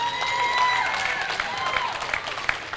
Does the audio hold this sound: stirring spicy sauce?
no